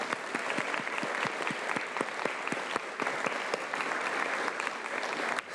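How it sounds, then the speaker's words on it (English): A crowd claps steadily at a volunteer recognition ceremony, with dense, continuous applause and distinct individual claps standing out, sustained at a moderate level throughout. "Let's give them a big round of applause."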